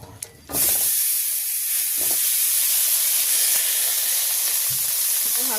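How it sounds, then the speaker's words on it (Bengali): Potatoes hit hot oil in a village kitchen in Bangladesh, a sudden loud sizzle that starts after a brief stir and keeps hissing steadily, with a few faint clinks over it. "আমি এখন আলুটা ভাজি করে নেব।"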